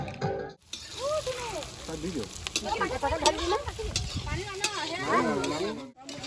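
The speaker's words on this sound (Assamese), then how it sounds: "এয়া ভাজি আছোঁ।" Duck meat fries and sizzles in a pan during an outdoor cook-up at a shrine, with steady crackling broken by stirring scrapes. A person talks over the cooking throughout.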